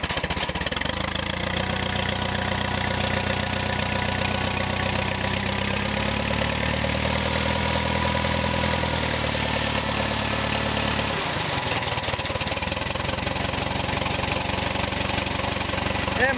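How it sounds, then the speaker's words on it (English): A Case tractor engine cranks, starts and settles into a steady, even idle at quarter throttle on a frosty cold day, running loud and close with a low rumbling pulse. "Turn the key and we'll give it about quarter throttle."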